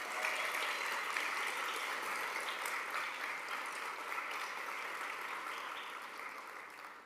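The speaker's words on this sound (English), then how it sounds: "we're going to give you another round of applause" Graduation audience applauding in a sustained, dense burst of clapping that holds steady for several seconds before tapering slightly, with no speech over it.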